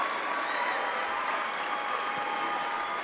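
A steady roar of cheering and applause fills a high school basketball gym during a boys' sectional game, loud and unbroken throughout with no pauses.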